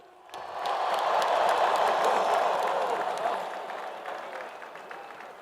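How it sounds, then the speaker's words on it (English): Large stadium crowd at an Ohio State national championship celebration in Ohio Stadium applauding the seniors, a broad roar of clapping and cheering that swells quickly, holds steady, then gradually eases. "Let's give those seniors a round of applause."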